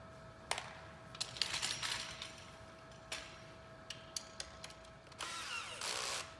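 A lock nut is tightened onto a bar while a V-Flex stand is being assembled. Scattered close metallic clicks and scrapes lead into a longer whirring burst near the end, over a faint steady hum, with no talk.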